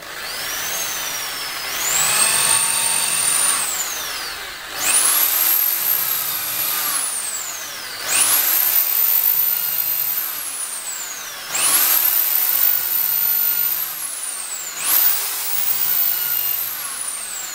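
A corded electric drill running in a homemade tilting drill guide: five separate runs, each spinning up to a high whine, holding for a couple of seconds, then winding down, loud and close.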